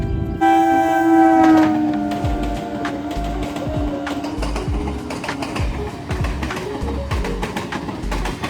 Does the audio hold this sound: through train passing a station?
yes